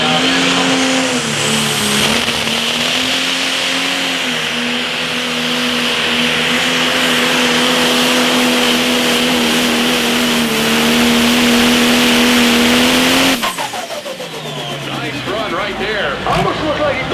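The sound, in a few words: pro stock pulling tractor engine revving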